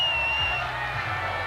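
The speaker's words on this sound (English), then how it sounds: "applauding supporters as well." Newcastle United supporters at an FA Cup runners-up homecoming parade cheer and clap as a crowd, a steady wash of distant crowd noise with faint whoops throughout.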